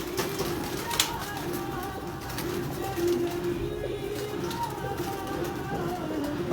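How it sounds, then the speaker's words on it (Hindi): A large flock of pigeons, some flying overhead and dozens moving about on the ground, gives soft, low cooing calls with a few wing flutters, quiet and steady against faint background noise. "कोई 15-20 कबूतर चले गए ऊपर, कोई 30-40 कबूतर नीचे फिर रहे हैं।"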